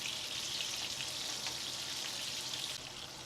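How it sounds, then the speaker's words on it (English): Small koi fish fry in hot oil in a pan and are turned over with a spoon, giving a steady, dense, close sizzle that continues without a break and eases off slightly near the end. "Use a spoon to turn the fishes onto the other side as I'm doing here."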